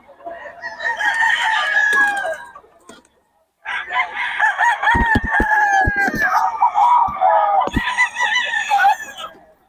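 Roosters and chickens crow loudly and close by in a yard, long drawn-out calls overlapping, broken by a short pause and a few sharp knocks, with clucking mixed in.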